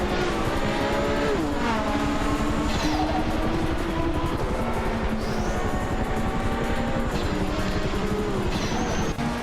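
Racing cars in a video game race roar past with engines whining and revving, pitches rising and falling as they pass and shift, a continuous loud drone with no talking.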